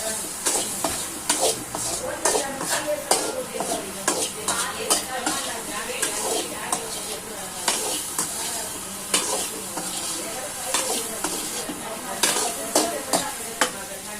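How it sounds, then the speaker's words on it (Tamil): A spoon stirs masala and salt through food in a frying pan, giving steady scraping strokes in an irregular rhythm over a soft, continuous sizzle. The sound is close and moderately loud, with no talking. "உப்பை போட்டு நல்லா கிண்டிக்கலாம்"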